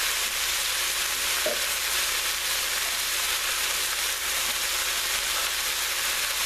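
Potatoes stirred into a pan of frying beef give a steady, even sizzle throughout, with a soft scrape of the stirring near the start and no talk.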